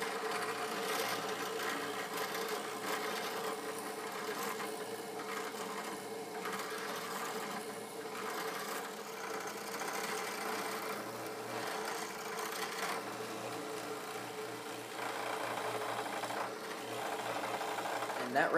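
A power drill bores screw holes for a hockey bag holder, a quiet, continuous motor whir with slight changes in pitch over nearly twenty seconds.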